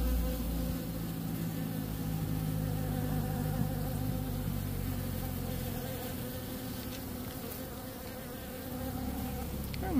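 Honey bees hum in a dense, continuous buzz at close range while being handled for queen rearing, steady and loud for the whole stretch with no talking.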